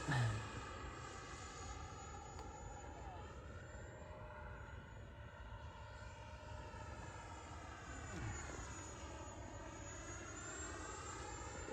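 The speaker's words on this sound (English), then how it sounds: "This is 64mm. Listen to the sound on this pass." A 64mm ducted-fan RC jet, an L-39, sweeps past with a high whooshing whine, rising and falling in pitch as it passes, faint and distant over steady background noise.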